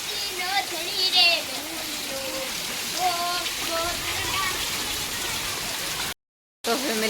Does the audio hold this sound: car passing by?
no